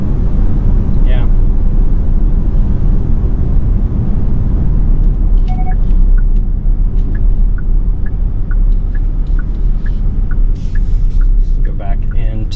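A 2023 Genesis G90 driving in sport mode: a steady low road and engine rumble fills the cabin throughout, with voices talking over it.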